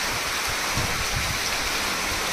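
Rain falling steadily outdoors in a village, an even hiss of drops close by with no voices.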